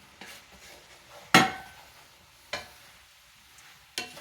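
A spoon knocks and scrapes against a pot of gumbo, three sharp clanks spaced a second or so apart over a quiet, faintly sizzling background.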